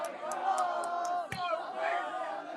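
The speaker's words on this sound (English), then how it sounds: "Yeah, I think they're just taking off chants." Sports crowd at an Interfaith Cup final chanting in unison, a loud dense mass of voices with rhythmic shouts that dip briefly mid-way and then swell again.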